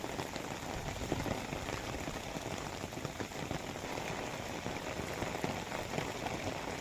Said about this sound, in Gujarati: રાત્રિના સમયે ભારે પવન અને વીજળી સાથે વરસાદ વરસતો રહ્યો